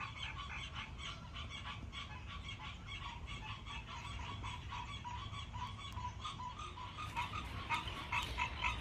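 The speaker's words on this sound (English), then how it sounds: "the frogs are starting to go crazy" Frogs croak in a loud, dense chorus during a gathering thunderstorm, steady calls overlapping throughout and swelling slightly toward the end.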